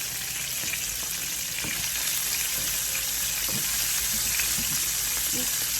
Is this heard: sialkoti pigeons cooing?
no